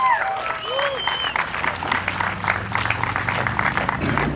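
A small outdoor crowd claps at a campaign bus tour stop in a Burnsville commons, with scattered close hand claps, a few whistles and cheers at the start, and a low rumble underneath.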